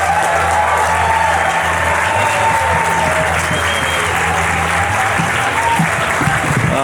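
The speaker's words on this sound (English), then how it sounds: "Please, let's start that round of applause going right now, please, for Wayne Deakin." Loud, sustained comedy club applause as a comic is welcomed to the stage, dense clapping from the crowd running continuously with a few whoops mixed in.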